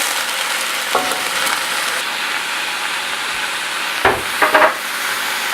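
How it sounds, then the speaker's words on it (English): Mushrooms sizzling in a pan over lowered heat after beef was cooked, a steady close frying hiss with a few sharp clatters and scrapes of stirring. "I'm going to lower my heat and add the mushrooms."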